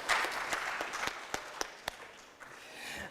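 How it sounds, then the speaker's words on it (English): Faint, thin applause from an audience after a speech on gender-based violence, a handful of scattered claps standing out distinctly before it fades. "I would expect a bigger round of applause."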